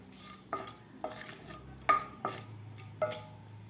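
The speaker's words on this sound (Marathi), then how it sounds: "हे मसालेसुद्धा आपल्याला तेलामध्ये परतून घ्यायचे आहेत." Spices sautéing in oil in a kadai over low heat: a soft sizzle under five distinct spoon-against-pan scrapes and clinks at roughly even intervals, close by and without speech.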